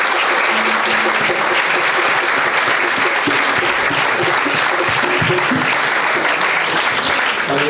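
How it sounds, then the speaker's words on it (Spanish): A church congregation applauds loudly and continuously for several seconds, dense clapping filling the room with faint voices mixed in. "Dar un aplauso al Rey de Reyes"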